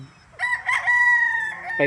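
A gamefowl rooster at a Tagaytay City farm lets out one long, loud crow close by, with a second call just beginning as it ends.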